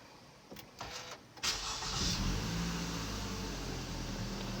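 A 2016 Toyota Camry 2.5V with its 2.5-litre engine is push-button started: a few short clicks and whirs, then the engine catches with a burst and settles into a steady, close idle hum.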